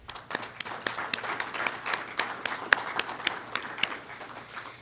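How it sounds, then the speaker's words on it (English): Scattered applause from a small audience at an annual general meeting, for a board of directors: a few sharp, irregular claps over a quiet room, sparse and fairly faint. "I think they all deserve a round of applause too"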